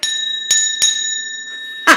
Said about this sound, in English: Just having fun with my bell